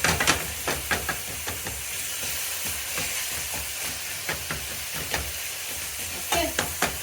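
Kebabs frying in hot cooking oil give a steady broadband sizzle and hiss, broken by repeated sharp crackles and pops, close and fairly loud with no one talking.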